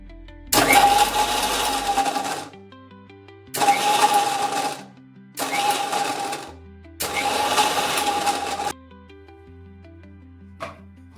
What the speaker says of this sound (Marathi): मिक्सर कंटिन्यू चालू न ठेवता आपण मध्ये मध्ये स्टॉप करून घेऊयात